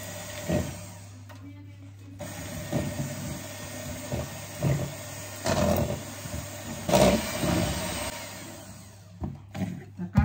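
An electric hand mixer beats blueberry muffin batter in a home kitchen. Its motor whirs in uneven bursts against a steady hum, with short pauses and a few louder surges as the beaters move through the bowl.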